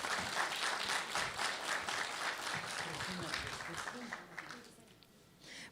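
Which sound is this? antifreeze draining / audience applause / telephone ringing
audience applause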